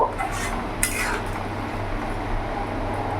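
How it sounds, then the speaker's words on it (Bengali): Spoon scraping and stirring a Bengali hilsa fish head curry with taro in a pan over a medium flame, with a steady close scratching and a brief clink near the start. "এবার ভালো করে আমি নাড়াচাড়া করে নেব"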